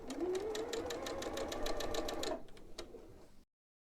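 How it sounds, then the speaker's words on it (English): A sewing machine stitches pieces of a quilted table runner in a fast, even mechanical whir with rapid needle clicks, close by. It runs for about two seconds, then slows into a few separate clicks before stopping. "Again, sew on the line."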